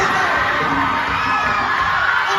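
A loud high school crowd cheers and shouts steadily throughout, a dense mass of voices yelling and whooping with no pause.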